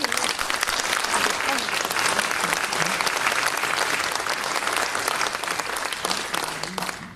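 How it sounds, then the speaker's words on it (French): An audience bursts into steady, dense applause at the close of a talk, loud and sustained throughout before tapering slightly at the end. "Je pense qu'on peut vous applaudir."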